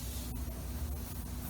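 Cheap hairspray sprayed from an aerosol can onto foil, a faint continuous hiss with a few brief pulses as the nozzle is pressed, no talking.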